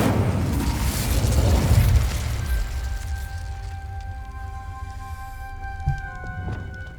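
An Incendio fire spell blast in Hogwarts Legacy: a loud, rushing, roaring burst of flame in the first two seconds that fades into sustained tonal game music.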